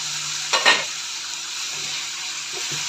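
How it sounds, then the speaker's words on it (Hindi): Matar gobhi, peas and cauliflower, fries in a pan with a steady soft sizzle, broken near the start by a quick clatter of stirring against the pot, close up and with no talking. "काफ़ी इसके ना आवाज़ आ रही है, कट कट की आवाज़ें आ रही है, इसके अंदर से बहुत अच्छी तरह भून गई है।"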